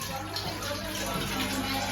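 Water gushes steadily in a home kitchen while noodles are being boiled, a continuous close splashing pour across the whole moment, with a voice faintly under it.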